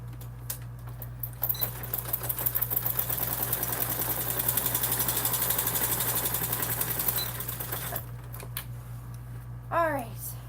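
A sewing machine runs steadily for several seconds while stitching a seam on a Swoon Maisie bag, close and fairly loud over a constant low hum, then stops, followed by quieter rustling and a brief squeak.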